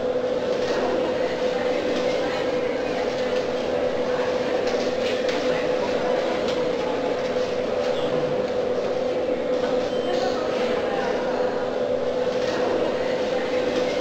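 A Berlin U-Bahn U2 subway train bound for Pankow from Ruhleben drones on with a loud, steady rumble and an unbroken electric hum throughout.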